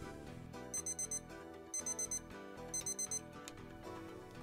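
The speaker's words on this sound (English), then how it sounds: "Fortunately, I have a timer going during this time period because I get pretty involved in whatever I'm doing" Beeping timer alarm going off in a workshop during powder coating, sounding repeated bursts of four rapid high-pitched beeps, three clusters in a row, loud and close over a busy background with no talking.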